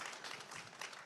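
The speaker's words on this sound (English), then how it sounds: "that clapping started from my mom and my dad, who are sitting in the front row right over here" Audience applause at a live evening talk event with Steve Fulop, steady dense clapping from a crowd for about a second, moderately loud with no voices over it.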